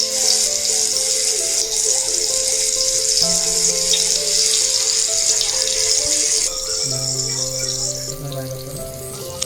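Spice-coated fish sizzling in hot oil in a pan, a loud, steady hiss and crackle that holds throughout and eases slightly toward the end, with a faint tonal background underneath.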